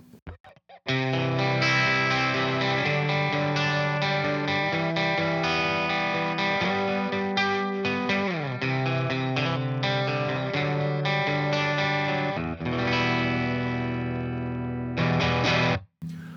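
Electric guitar through a Universal Audio Knuckles '92 rectifier distortion pedal, cabinet simulation off, plays sustained chords and riffs, loud and continuous with a buzzy, saturated tone, ending abruptly.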